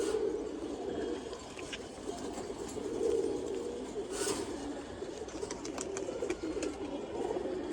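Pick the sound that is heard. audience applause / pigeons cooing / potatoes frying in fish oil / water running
pigeons cooing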